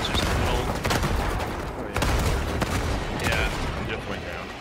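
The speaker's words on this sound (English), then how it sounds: "Someone shoot that turret." Dense, continuous gunfire in a Helldivers 2 battle as players shoot at an enemy turret, rapid shots and blasts packed together, loud and steady throughout, with voices talking over the fight.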